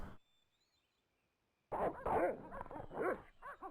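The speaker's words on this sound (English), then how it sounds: "Those dogs are still there." Dogs bark in a point-and-click adventure game, a cluster of loud, close barks and yelps starting after a near-silent pause and continuing in quick bursts to the end.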